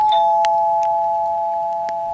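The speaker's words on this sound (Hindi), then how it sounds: "घर की डोरबेल बजी" A bright electronic doorbell chime rings once, its tone holding and slowly fading, with a few faint clicks.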